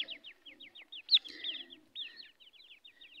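Grey francolin chick gives a rapid series of high, thin chirps, repeated in quick bursts with one louder peep, close and alone with faint low rustling beneath.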